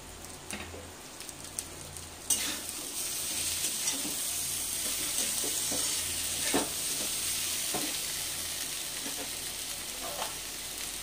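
Vegetables with tomato, Kashmiri chili powder and slit green chilies sizzle softly in a pan, a faint continuous hiss with occasional scrapes of a spatula stirring, close by and without talk.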